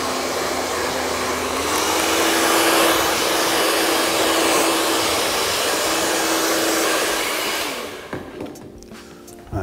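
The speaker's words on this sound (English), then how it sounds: "let's give it a quick blast with the hairdryer" A hair dryer blows steadily and loudly on short graded hair in a salon, a continuous whooshing roar with a constant motor whine that runs for about eight seconds before cutting off, leaving quiet room noise.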